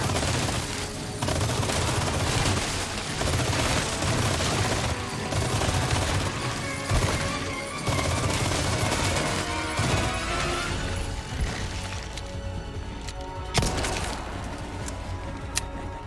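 Sustained automatic gunfire rattles through a Resident Evil 4 firefight in loud, dense bursts with brief gaps between them. The shooting thins out toward the end, where a few sharp single shots and impacts stand out.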